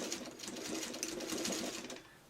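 A sewing machine stitches along the curved edge of a Dresden quilt piece, giving a fast, even mechanical whirr with rattling needle strokes that runs steadily and fairly quietly, then slows and fades near the end, with no voices.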